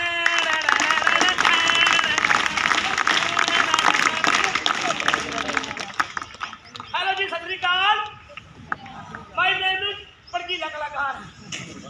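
A village audience at an anti-drug stage play in Sehna, Barnala, claps dense, loud applause for a performer's entrance, then it fades as voices begin talking over scattered claps.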